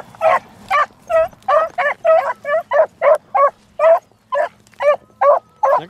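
Young beagle hounds running a trail bay in a loud, rhythmic series of about fifteen close, ringing cries, evenly spaced over several seconds with brief quiet gaps between them.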